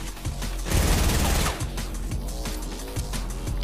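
Dense bursts of gunfire in the video game Fortnite, loud and continuous with overlapping shots and clatter throughout, no voices.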